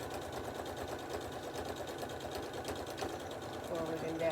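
A home sewing machine stitches a simple sunglasses or goggles case, a steady low mechanical hum with rapid needle ticking running the whole time, with a voice speaking over it.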